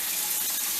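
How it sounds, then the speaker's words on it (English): Brief steady stream of tap water poured into a pot of rice, a continuous hissing splash with no voices. "I'll put some water in it."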